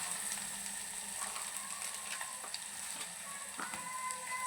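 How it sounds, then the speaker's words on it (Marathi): Green chillies with garlic roast in a pan, giving a faint, steady sizzle with scattered light crackles and small scraping ticks, no voices. "चांगली भाजून घ्यायची कारण कच्ची मिरची आहे ना भाजून घ्यायची मिरची चांगली"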